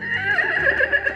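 A horse neigh sound effect, one loud, close whinny with a wavering, falling pitch that fills the short clip without talk.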